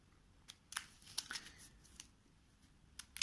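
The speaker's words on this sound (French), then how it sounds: "Je vais remélanger donc mon deck." A deck of Mystic Vale board game cards is shuffled, giving scattered sharp riffling snaps and flicks at a quiet, close level with no talking.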